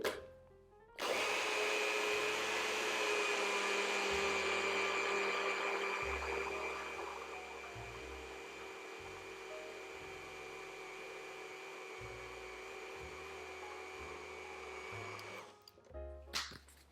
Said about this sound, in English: I'm just gonna use my NutriBullet here because we're not blending a huge amount